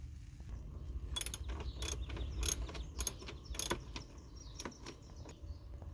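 A ratchet works a bolt loose under the hood of a 2005 Toyota Corolla during a coolant reservoir change: a steady series of sharp clicking turns over a low background rumble, close up and without speech.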